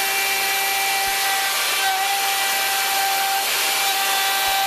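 A plunge router whines steadily while cutting into wood, a continuous high-pitched machine drone with slight variations and no talking.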